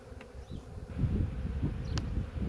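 Honey bees buzz softly around an open hive during a spring inspection, a faint, steady drone with a few brief higher whines as individual bees fly close.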